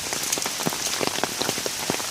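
Heavy rain falls on rural land, a steady close hiss of downpour broken by dense, irregular pattering drops striking nearby surfaces, with no voices.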